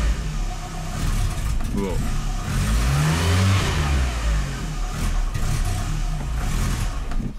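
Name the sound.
VW Golf 2 engine starting and running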